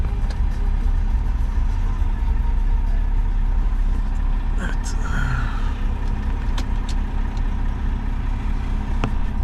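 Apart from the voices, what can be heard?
BMW 525 car engine idling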